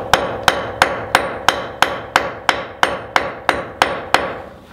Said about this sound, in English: I just lift and drop the tool and cut the pattern back in the stones